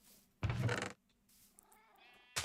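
A cat meows in Minecraft, giving a short, clear mew near the start and a fainter, drawn-out cry afterward, with a quick bit of another call cut off at the end, close and without talking.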